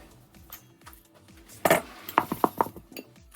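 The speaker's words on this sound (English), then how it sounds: "Before I add them in, I like to crush them a little bit." Whole coriander seeds crushed by hand in a kitchen for pakora mix, a few sharp, close clinks and cracks clustered in the second half over a quiet background.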